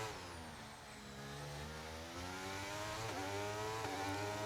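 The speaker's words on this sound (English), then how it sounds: "Probably my favourite section just because of the sound of the engine echoes." Racing-game Formula 1 car engine at Monaco, a loud, continuous high-pitched whine that rises steadily as the car accelerates through the tunnel, with a brief dip near the end as it shifts, then climbs again.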